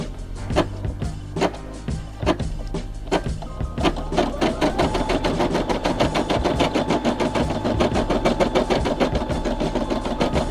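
A Brother SE600 embroidery machine stitches a custom digitized patch in white thread. Rapid, steady mechanical needle clatter runs close and loud after a few slower starting stitches.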